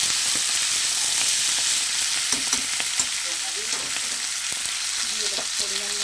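Malabar spinach being stirred into eggplant and potato in a frying pan, a steady hiss of frying oil throughout with scattered soft scrapes and clicks of a spatula, no voices.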